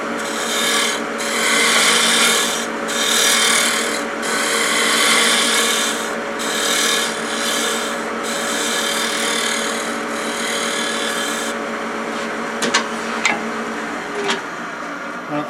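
An 8mm carbide woodturning tool cuts into spinning wood on a lathe, shaping the outside of the piece with a loud, continuous rasping scrape broken by brief gaps, then easing off into quieter scrapes and clicks at the end.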